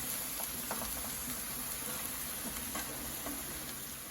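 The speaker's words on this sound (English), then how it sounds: "just stir in the seasonings with what's in the pot" Seasonings being stirred into a simmering pot of brown stew chicken wings, a steady soft sizzle and bubbling with faint scraping stirs throughout, close and without talk.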